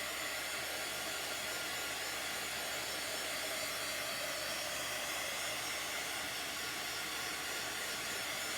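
A heat tool blows steadily close by, a constant loud whooshing hiss as it dries chalk paint on a craft door tag, with no talk.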